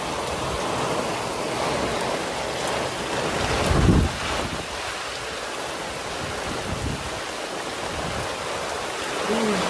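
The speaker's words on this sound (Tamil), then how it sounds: "சரியான மழை, ஹெயில் ஸ்ட்ராம்." A heavy rain and hailstorm hits a boat at sea, making a dense, continuous roar of wind and water with brief louder gusts.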